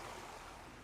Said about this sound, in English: So relaxing, just sitting down here listening to that water flow.